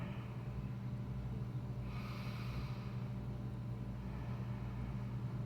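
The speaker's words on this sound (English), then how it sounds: "breathing through the nose, constricting the back of the throat if you want that ujjayi breath" Slow, breathy ujjayi breathing through the nose with the throat constricted, a soft throaty rasp, a long inhale and exhale heard close over a steady low background hum.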